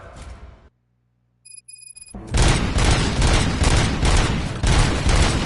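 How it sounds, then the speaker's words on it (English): Rapid, sustained gunfire erupts in the video game RoboCop: Rogue City, loud and continuous after a brief near-silent pause with faint electronic tones, volleys overlapping like a firefight with no talk. "Gunshots? What's going on?"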